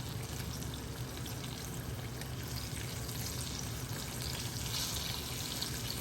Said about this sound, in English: I'm just gonna take my time and flip them over.